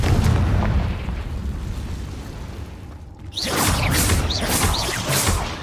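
Confringo blasting spell bursts in a cave in Hogwarts Legacy: a loud rumbling explosion that fades, then a fresh burst with sharp crackling pops and whooshes, with no speech.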